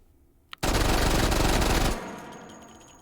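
A Mac 10/11 submachine gun fires one continuous full-auto burst of a bit over a second in the game H3VR, loud and rapid, preceded by a single click and followed by a fading echo and tail.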